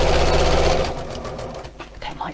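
A sewing machine stitches through thick layers of fabric and wadding with a steady whirring hum that slows and fades, while a voice talks over it.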